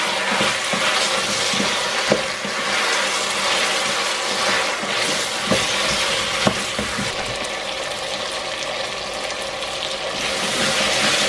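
Aubergines frying in hot oil in a pot, a loud, steady sizzle that continues throughout, broken by occasional scraping knocks as the pieces are stirred.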